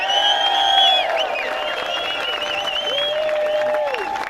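A rally crowd cheering and clapping outdoors in Boston, loud whoops and sustained applause with shouting voices rising over the steady clapping.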